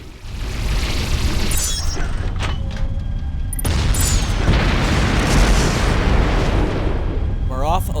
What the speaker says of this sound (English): Mission complete. Target destroyed.